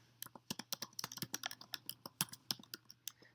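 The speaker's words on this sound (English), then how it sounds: "So I can type" Close, crisp keystrokes on a computer keyboard, a quick irregular run of distinct clicks with short pauses, alone over a faint hum.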